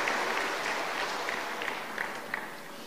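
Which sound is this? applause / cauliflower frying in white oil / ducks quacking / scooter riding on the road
applause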